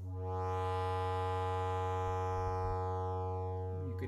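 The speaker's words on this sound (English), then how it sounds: "You could hear it swinging back and forth from the triangle to a nearly square wave" A Blacet VCO 2100 oscillator drones steadily while an LFO sweeps its waveform back and forth between a triangle and a nearly square wave, its buzzy brightness swelling and fading again, heard alone.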